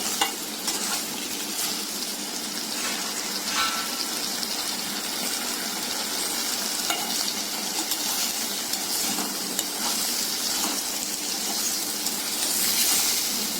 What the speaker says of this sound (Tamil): நல்லா மிக்ஸ் பண்ணி விட்டுடலாம்.